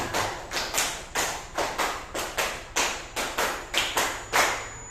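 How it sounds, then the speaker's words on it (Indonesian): A group in a school setting claps in a concentration clapping game, about a dozen sharp, evenly spaced claps in a steady rhythm, close and clear with no talk over them. "3 kali tepuk 5."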